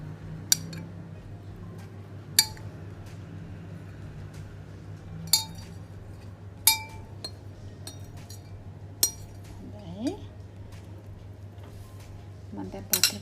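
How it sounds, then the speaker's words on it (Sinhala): Boiled metal pots being lifted out and set down, sharp metallic clinks repeating at irregular intervals, with a faint steady hum underneath. "දැන් මම අර බොයිල් වෙච්ච පාත්‍ර ටික මෙන්න මේම අයින් කරගන්නවා"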